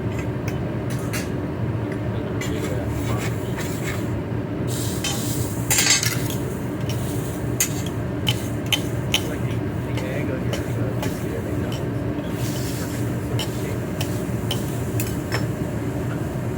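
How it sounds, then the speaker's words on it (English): Cut-up food mixed with green onion, cilantro and spicy teriyaki, with light clinks and scrapes of a utensil against a bowl under a steady background rumble while people talk throughout. "Mix it really, really good, and then just plate it."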